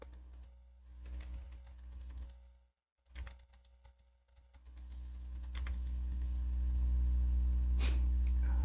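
Keys clatter steadily on a computer keyboard as AutoCAD commands are entered, with a short pause in the middle, followed by more key taps over a rising background hum.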